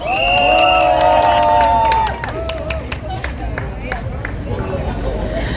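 Crowd at a candlelight protest rally in Suwon claps and cheers as a student speaker is welcomed, loud over amplified speech and music at first, then a thinner patter of scattered claps and murmuring.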